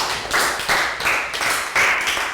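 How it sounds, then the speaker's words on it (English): A small group of children clapping in a primary classroom during a maths lesson, coming in a few uneven bursts of close, sharp claps rather than a steady roar. "Round of applause for Pangpon."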